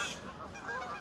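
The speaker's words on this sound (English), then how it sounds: "all of the geese just took off at once and all the flapping" A flock of geese takes off together, loud overlapping honks over a dense rush of wingbeats that stays steady and close for the whole second.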